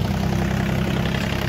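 A tractor engine idles in a sugarcane field where cane is being planted by machine, a steady low rumbling drone with a pulsing throb, loud and close, with no voices.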